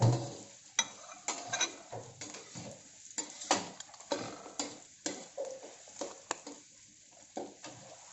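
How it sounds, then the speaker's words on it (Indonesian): Garlic and onion sauté in a pan for spaghetti, soft sizzling broken by repeated scrapes and clicks of a utensil stirring against the pan, fairly quiet and close with no talking. "Kita tumis dulu semuanya, bawang putih dulu lah."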